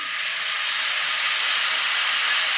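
Cucumber ghavan batter meets a hot pan greased with peanut oil, giving a steady, loud hiss of sizzling that holds evenly from start to finish with no other sounds on top.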